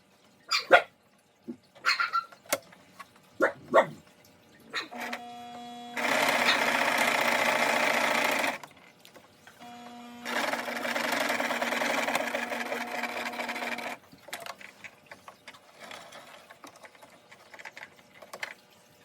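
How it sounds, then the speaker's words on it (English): A sewing machine stitches along the bridge of a fabric face mask in two sustained whirring bursts, several seconds each, with scattered sharp clicks and taps before, between and after, and no speech. "we are going to sew along the bridge here on both of those sides"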